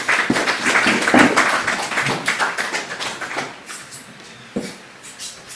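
An audience at a graduation ceremony claps, a dense burst of applause that thins out into scattered individual claps and fades, with a couple of stray knocks near the end.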